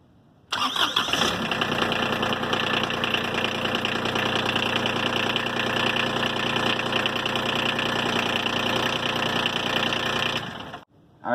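Kubota RTV utility vehicle from 2019, fitted with a new starter, cranks briefly and fires, then idles loud and close with a steady engine drone for about ten seconds before cutting off abruptly.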